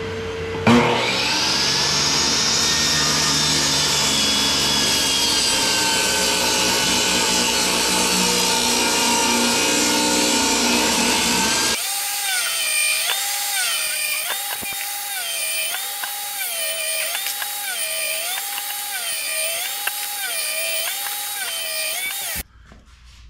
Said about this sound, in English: we're gonna go ahead and cut the board